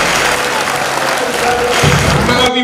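An audience at a Tamil school ceremony applauds an honoured lady and the top-scoring girl students, a dense, loud, sustained wash of clapping filling the room with no break.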